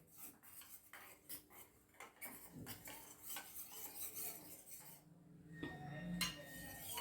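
Spoon clinking and scraping in a bowl while stirring vanilla custard powder into a mixture for a vermicelli kheer, with irregular close metallic taps and swishes alone, no voices.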